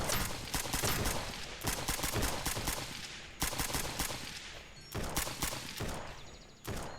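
Dense gunfire in the SurrounDead video game, rapid bursts and sustained volleys of automatic shots filling the whole stretch with only brief pauses, loud and close.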